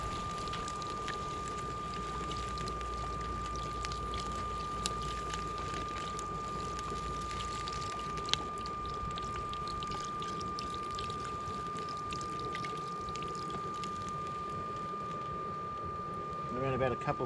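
Water pours steadily into chicken soup in a camp oven, a soft continuous splashing trickle heard up close and fairly quiet, running for the whole stretch with a faint steady tone behind it.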